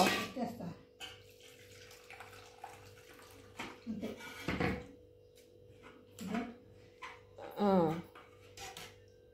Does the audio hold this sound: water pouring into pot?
yes